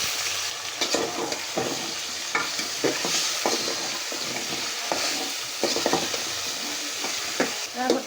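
Potatoes fry with raw spices, onion, garlic, ginger-garlic paste and green chilli for a rohu fish curry, a steady close sizzle broken by repeated spatula scrapes and stirring strokes, with no voices.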